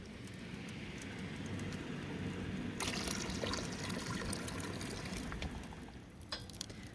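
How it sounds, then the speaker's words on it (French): Liquid trickles and pours into a maple syrup boiling pan, a soft, continuous wash of water that thickens briefly in the middle over a low, steady bed of background noise. "là je trouvais que le niveau est un peu bas, donc on rajoute de l'eau"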